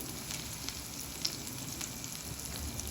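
Puffed rice snacks frying in hot oil, a steady close hiss and sizzle with tiny crackles scattered through it, no talking.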